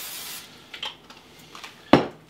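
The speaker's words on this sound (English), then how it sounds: "I'm going to spray it with just a little bit of spray oil." Cooking spray oil is sprayed into a saute pan for eggplant garlic sauce, with one short close hiss near the end after a few soft pan and utensil clinks.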